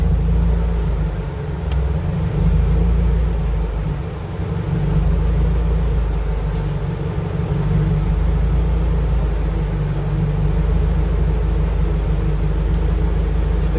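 A turbocharged 1992 Honda Civic Si hatchback with a B18C1 engine running hard on a dyno at 11 pounds of boost, a loud, steady broadband engine roar with deep rumble sustained throughout, dipping briefly before building again.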